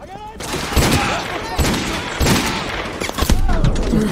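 Rapid, dense gunfire from a weapon in the video game MW2 Remastered, with loud overlapping bursts and booming impacts that continue throughout, and a voice talking over part of it.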